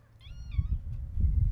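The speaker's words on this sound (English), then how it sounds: "What's going on, sweet little kitty?" A cat gives one short, close meow outdoors, a clear rising-and-falling cry over low background rumble, recorded on an iPhone 8 Plus with a Shure MV88 mic.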